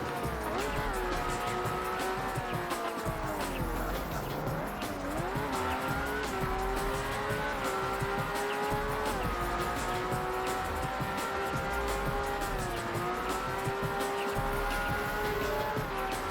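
Lamborghini engine in a racing video game, a continuous loud drone with rising and falling pitch through gear changes and occasional tire squeal, steady throughout with no one talking.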